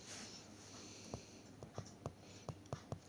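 Marker or chalk strokes tapping and scraping on a classroom board during a maths lesson, a series of short, sharp, close ticks spaced irregularly over a faint steady room hum.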